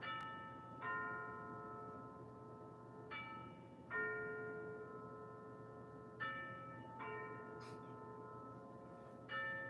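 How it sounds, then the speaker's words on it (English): Rhythm USA clock chimes strike in alternating bim-bam pairs, bright bell tones ringing out and decaying slowly, several strikes spaced a couple of seconds apart in a quiet room. "I do really like the chimes on this though"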